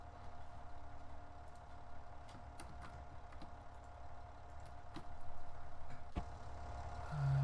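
A tractor engine in Farming Simulator 17 runs at a steady low idle, near and fairly quiet, with a slight rise in revs toward the end.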